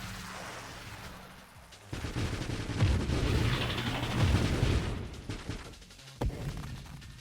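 Weapons fire steadily in the space shooter game Nova Drift, with dense, overlapping booming and crackling bursts that swell and ebb for several seconds, with no voice over them.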